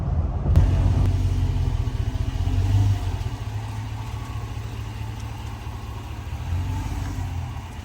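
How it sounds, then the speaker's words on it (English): A 2005 GMC Yukon engine rumbles low and steady through a Flowmaster cat-back exhaust, a deep throaty tone, swelling briefly as it revs, then settling into a muffled idle. "with the fresh exhaust, with that Flowmaster catback kit"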